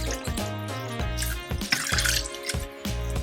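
About 500 ml of water is poured into a pot of rasam, a choppy splashing pour with several short gurgling bursts against a steady musical background hum.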